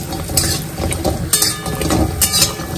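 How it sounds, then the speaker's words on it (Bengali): Bori, sun-dried lentil dumplings, fry in oil in a pan with a steady close sizzle, broken by repeated scraping and clinking as a utensil stirs them. "বড়িটাকে ফার্স্ট এখানে একটু ভেজে তুলে নিতে হবে।"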